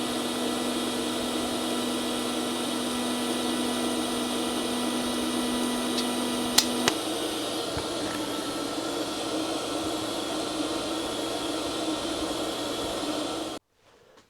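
An R Tech TIG 160FPP welder holds a steady TIG arc, a continuous close buzzing hiss with a faint hum that runs unbroken for over ten seconds with a couple of brief clicks, then cuts off abruptly.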